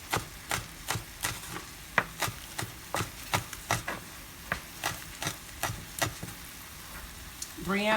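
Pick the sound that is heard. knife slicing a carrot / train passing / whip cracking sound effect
knife slicing a carrot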